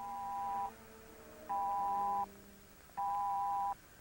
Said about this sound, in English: It's the alarm, the electric beam.